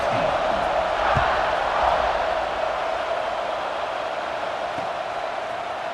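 Stadium crowd in EA Sports College Football 26 at a kickoff, a broad continuous roar of cheering fans with faint shouts rising briefly, steady and moderately loud.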